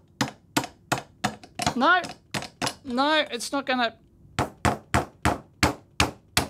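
A hammer repeatedly striking the casing of a cheap portable heater to break it open, giving a steady series of sharp, close metallic knocks, with a person speaking briefly between them.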